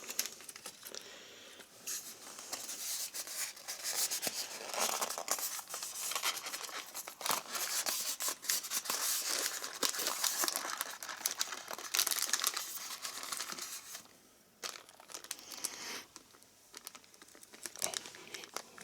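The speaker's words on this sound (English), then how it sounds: "Let's get it out of the box. Standard Hornby packaging for that era." Cardboard packaging of a Hornby model locomotive, a Class 73 electro-diesel, being opened: continuous close crinkling, rustling and tearing with small taps and scrapes, steady and busy throughout.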